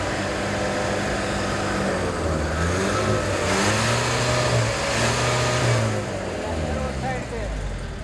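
Car engine revved repeatedly during an exhaust smoke check by environment officials, rising and falling in pitch through several surges at close range, with people talking over it.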